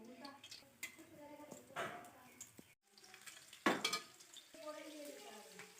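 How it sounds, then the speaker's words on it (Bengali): Pieces of taro leaf fry in hot oil with a quiet, crackling sizzle, broken by occasional scraping and clatter from stirring in the pan, while someone talks nearby. "তেলের উপর এবার একটা একটা করে ওই পিসগুলোকে ভালো করে ভেজে নেব।"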